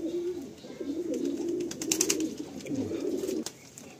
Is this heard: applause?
no